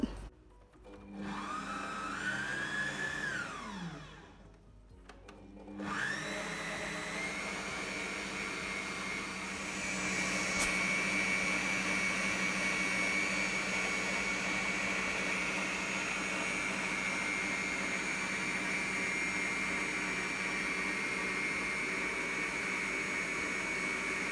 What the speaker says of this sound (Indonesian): Di mixer sampai creamy, sampai gulanya larut